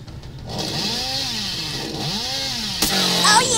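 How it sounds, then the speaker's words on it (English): Chainsaw revving in the horror video game Dead by Daylight, a steady loud drone with a few rising and falling surges, then a sudden sharp burst near the end. "Oh yeah, we got a chainsaw kill!"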